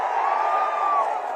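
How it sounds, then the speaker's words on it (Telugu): A large crowd at a political rally in Gurazala roars in sustained cheering, loud and steady for a moment before tapering slightly. "గట్టిగా చప్పట్లు కొట్టి అభినందించండి"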